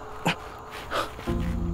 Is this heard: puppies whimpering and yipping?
yes